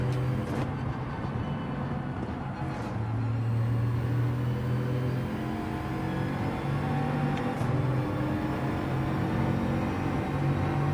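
Race car engine from Gran Turismo 7 droning steadily at high revs along a straight in a slipstream, with shifting tonal whine and occasional gear changes, loud and continuous with no talk.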